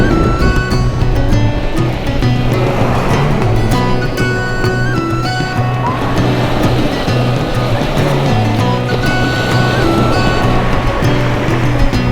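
Steady wash of surf rolling onto Dornoch Beach in Scotland, a continuous broadband roar with no talking, loud and close throughout.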